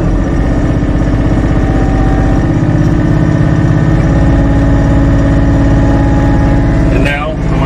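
Kioti CK3510 SE cab tractor engine cranking and settling into a steady, loud diesel idle with a continuous low rumble, a brief mechanical shift near the end.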